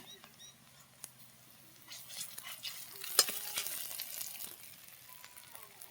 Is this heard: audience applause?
no